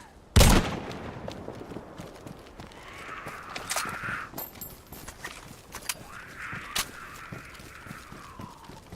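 Gunshots in a zombie-survival shooter: one sharp, loud crack at the start, followed by scattered fainter pops and shuffling sounds over a steady background.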